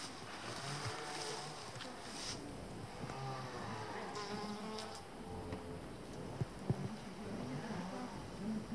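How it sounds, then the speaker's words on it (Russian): A bee buzzes faintly amid an outdoor background hum, with a low droning tone that wavers on and off. "Пчела."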